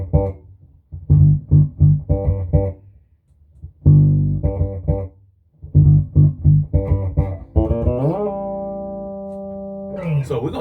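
An electric bass with the blend control turned to the rear pickup plays a string of plucked notes that ends on a long sustained note, up close with no talking.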